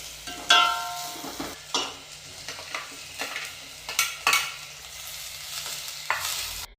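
Crushed ginger, garlic and curry leaves sauté in a hot pan with oil for a home-cooked okra curry, giving a steady close sizzle broken by a series of scraping stirs of the spoon against the pan, with no talking.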